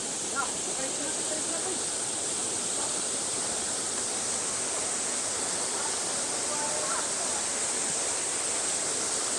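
Pangi Falls in Eastern Samar roars as a steady, dense wash of falling water, continuous and even throughout, with faint voices occasionally audible beneath the rush.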